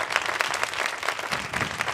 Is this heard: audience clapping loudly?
yes